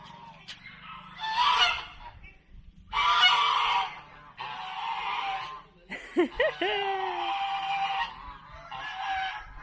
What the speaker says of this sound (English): You don't see a lot of geese around the place.